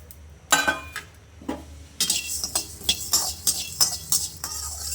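Whole coriander seeds tip into a pan on low heat and are stirred, giving a scattered patter followed by repeated light scraping and clinking strokes of a spoon against the pan, close and fairly quiet, with no talking.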